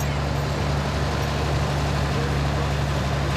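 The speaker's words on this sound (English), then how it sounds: "Driving a 1937 co-op tractor from the Plains Equity Exchange." Steady engine drone from a 1937 Co-op tractor being driven at a small-town fair, a constant low rumble with a faint steady hum that holds level throughout, no voices over it.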